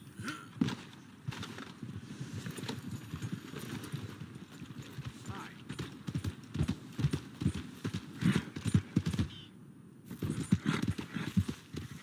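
Horse hooves clip-clop at a steady trotting rhythm in the open-world western game Red Dead Redemption 2, the even beats running for the whole stretch with a faint whinny and occasional background game sound mixed in.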